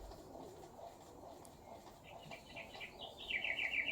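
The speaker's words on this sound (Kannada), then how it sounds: "ಬರ್ಡ್ ಸೌಂಡ್ ನೋಡಿ ಈ ಥರ ಬರುತ್ತೆ" Recorded bird song from a sleep sounds app: soft chirps and calls over a quiet background, becoming brighter and more frequent in the second half as a run of quick high tweets plays.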